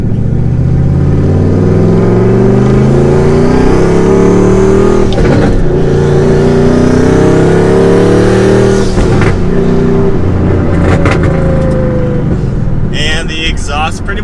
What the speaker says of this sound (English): The engine is idling and already roaring.